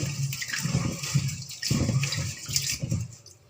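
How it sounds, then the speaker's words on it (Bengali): Rice is washed in water in close, repeated swishing surges, with splashing and sloshing pulses rising and falling about once a second. "আমি ভালো করে ধুয়ে নেব চালটাকে ভালো করে ধুয়ে"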